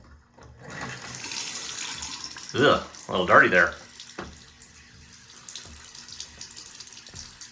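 Water bursts from a newly installed kitchen or bathroom faucet in a few short, loud gushes, with a quieter steady stream continuing afterward while someone speaks briefly nearby.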